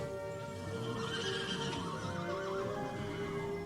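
A horse neighs in a long, whinnying call, fairly faint and a little distant, with hoof clops and a soft steady background hum.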